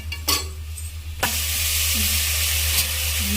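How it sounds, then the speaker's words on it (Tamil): Onions sauté in hot oil in a pan for chicken green biryani, with a sharp sizzle bursting in after a brief quiet stretch and then holding as a steady, close, bright hiss with occasional stirring clicks. "நல்லா வெங்காயம் வதங்கணும்."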